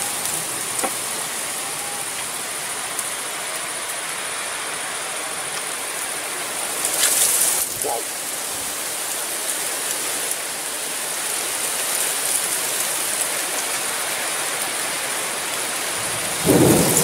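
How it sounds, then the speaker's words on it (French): Steady rain pours down through a loud, very windy thunderstorm with gusts of 80 to 90 km/h, with rumbles of thunder and a few sharper gusts or cracks along the way. "La tempête, les gars."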